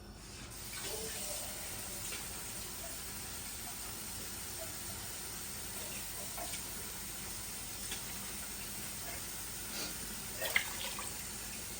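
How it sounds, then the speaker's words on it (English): Water runs from a kitchen tap into a cooking pot while chili is being made, a steady faint rushing hiss that holds evenly throughout with a brief clink near the end. "So let me add some water."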